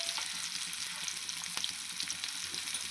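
Chopped onions sauté in oil with asafoetida and cumin for drumstick sambar, producing a dense, even, close sizzle with faint crackles and no voices.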